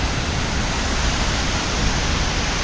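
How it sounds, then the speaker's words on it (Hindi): Waterfall heard from its base on a hill trek, a loud, dense, steady roar of falling water with no break or other sounds. "Finally first sight of waterfall. ये अभी वाटरफॉल का बेस है लगभग"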